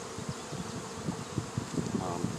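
Bees buzz around outdoors at a beekeeping site, a faint close hum with individual insects droning in and out, and soft voices in the background.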